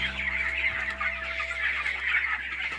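Chickens on a poultry farm cluck in a dense continuous chorus, a flock heard close, with a steady mechanical hum in the background.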